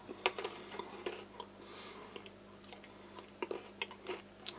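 Hard cracker from a Polish Arpol tourist ration is bitten and chewed close to the mouth, giving sharp irregular crunches and clicks that repeat unevenly over several seconds against a quiet background.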